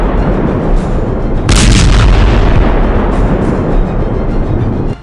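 Missile attack explosions over Tel Aviv form a loud, continuous rumbling roar with a sharper, brighter burst partway through, all dense and heavy from start to finish.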